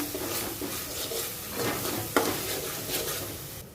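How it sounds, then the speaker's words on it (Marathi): Malvani masala, garam masala, turmeric and red chili powder sauté in hot oil for a Holi katachi amti, with a steady soft sizzle, repeated stirring scrapes and one sharp utensil tap midway. "आता हे मसाले आपण छान असे परतून घेऊया"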